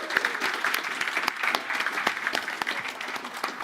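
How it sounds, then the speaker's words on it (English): An audience at the Codegarden 2024 live event breaks into a burst of dense, sustained applause, with many hands clapping close together over the whole stretch. "Give him a round of applause."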